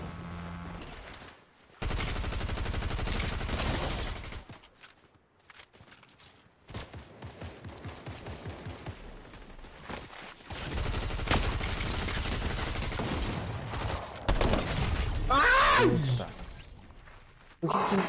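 Video game Fortnite gunfire: bursts of rapid automatic shots and single cracks across a match, loud in stretches with pauses between, while players talk over it.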